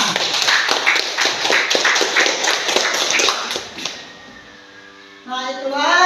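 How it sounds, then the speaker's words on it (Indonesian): A classroom audience bursts into dense, lively applause after a Quran verse lesson, the clapping fading out after about four seconds before a voice begins speaking. "Kasih tepuk tangan."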